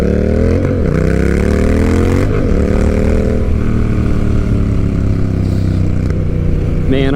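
A Honda Rebel 1100 motorcycle fitted with a cheap aftermarket exhaust blares loud and close, with a couple of sharp rev blips and then a steady climbing drone under riding wind.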